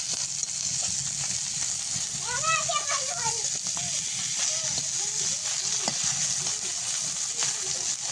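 Fish fries in a home kitchen pan, with a steady, loud sizzle running throughout while children's voices chatter over it.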